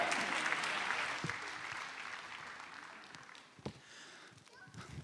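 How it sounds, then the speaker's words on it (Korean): Applause from a church congregation at a Christmas service fills the room, loud at first and then gradually thinning out into scattered claps and fading noise. "우리 박수로 축복합니다."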